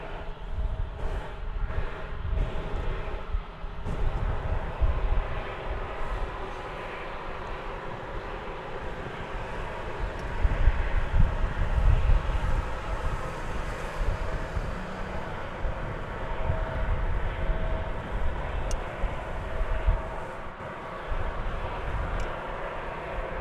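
An airliner taking off from runway 36 right at Dallas Fort Worth airport, a sustained jet engine roar at moderate distance that swells and fades slightly over the span, with no voices.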